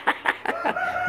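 Chickens on a small home poultry farm, sunning in good weather, give several short loud squawks and clucks in quick succession, followed by a steadier sustained call, close by with no talking.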